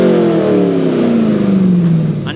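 A C5 Corvette with a hand-built valved dual-mode exhaust, Speed Engineering long tube headers and an SLP loudmouth muffler delete, revving loudly up close as the engine note sweeps down steadily while the revs fall.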